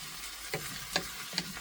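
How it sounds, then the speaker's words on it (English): Potatoes and bacon are stirred together in a pot, a soft steady sizzle broken by three quiet scraping strokes of the spoon, close and gentle with no talk. "we're going to mix it all up like this here, so that way those potatoes can get all that good flavor from the bacon"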